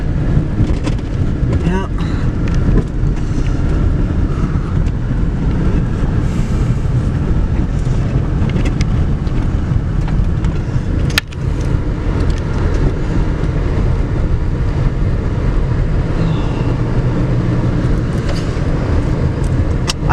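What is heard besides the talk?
Subaru car driving along a forest trail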